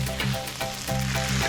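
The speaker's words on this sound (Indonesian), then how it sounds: "Pertama, tumis bumbu sampai harum. Lalu, masukkan pakis yang sudah dicuci bersih." Spices sautéing in a pan with ferns and boiled coffee husks, giving a loud, steady, close sizzle that fills the whole moment with faint stirring pulses and no voices.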